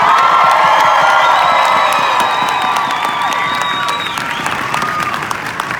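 A large audience bursts into loud applause mixed with cheers and whoops, sustained for several seconds before slowly easing off.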